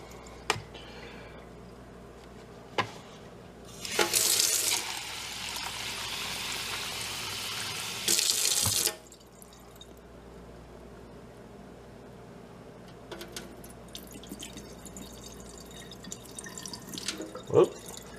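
Water is poured off fermented cucumber seeds in a container, with scattered drips, then a few seconds of steady pouring splash that stops abruptly, a second short pour, and then quiet trickles and drips.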